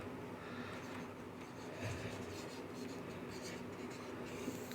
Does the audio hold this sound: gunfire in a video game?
no